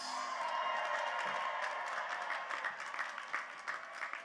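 A large audience at the Tulane University class of 2020 commencement ceremony breaks into sustained applause, dense clapping filling the hall and thinning slightly toward the end, with scattered individual claps standing out.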